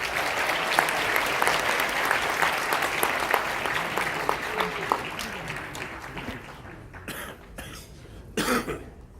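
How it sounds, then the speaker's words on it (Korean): An audience at a formal evening gathering applauds a politician coming up to speak, a dense steady clapping that gradually thins out and fades, with a few coughs and scattered last claps near the end. "큰 박수로 맞이해 주시기 바랍니다."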